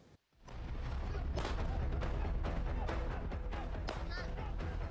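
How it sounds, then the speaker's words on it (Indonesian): Police fire several warning shots into the air while arresting members of a theft gang in Klaten: sharp, irregular cracks rise out of a constant, noisy background. "Tembakan peringatan polisi beberapa kali dilepaskan ke udara"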